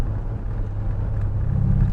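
A Porsche Cayenne's exhaust gives a steady, deep rumble at idle, close by and even throughout, swelling slightly toward the end with no talk over it.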